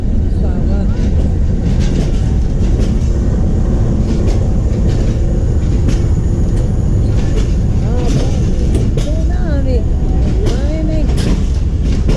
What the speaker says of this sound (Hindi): डाउन अवाम एक्सप्रेस स्वावा रेलवे स्टेशन पर खड़ी है जी